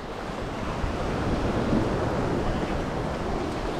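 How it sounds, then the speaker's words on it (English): Strong wind roars steadily against the microphone with heavy surf crashing close by during Tropical Storm Sara on the Belize coast, a loud continuous wash with no let-up. "I'm behind this building now, so I get away from the wind"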